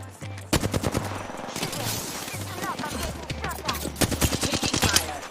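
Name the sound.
gunfire in a video game shootout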